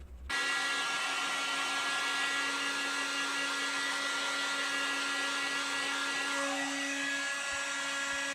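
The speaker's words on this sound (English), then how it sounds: "I'm also using a heat gun to help the process a little bit." A heat gun runs steadily to dry thin layers of filler, a loud, continuous blowing whir with a constant motor hum that holds throughout before cutting off at the end.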